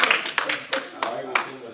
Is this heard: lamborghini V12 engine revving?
no